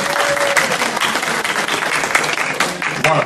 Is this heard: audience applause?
yes